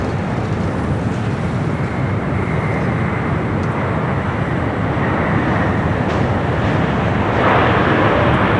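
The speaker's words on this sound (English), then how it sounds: "This 14-year-old 777 up next for arrival here on the south side." A 14-year-old Air New Zealand Boeing 777-300ER arriving from Auckland on the south side of LAX produces a loud, continuous jet roar that holds steady throughout with no talk.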